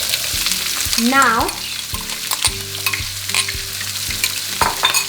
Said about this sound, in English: I've got 2 roughly chopped onions that go in as well.